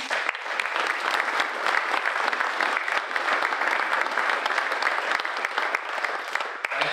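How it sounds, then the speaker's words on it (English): An audience gives another round of applause for a panel of speakers, dense even clapping that holds steady for about seven seconds at moderate distance with no voices on top. "Can we get one more round of applause for all of our speakers?"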